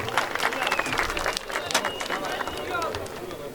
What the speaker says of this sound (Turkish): Alkış isteyelim firma temsilcilerimize.